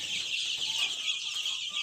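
A dense chorus of many chicken chicks, just after beak trimming, peeping and chirping continuously, high-pitched and steady, with no voices.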